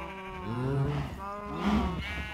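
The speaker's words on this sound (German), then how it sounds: "Was macht der Schaf hier drin?" A Minecraft sheep bleats twice in the video game, two close, clear, wavering baa calls about a second apart.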